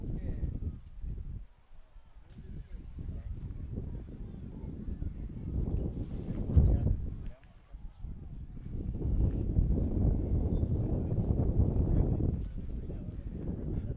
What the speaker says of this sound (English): It's become a breezy and windy here.